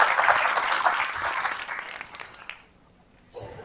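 A school district audience at a State of the District event applauding, a loud dense burst of many hands clapping that fades out over a couple of seconds before a brief quiet.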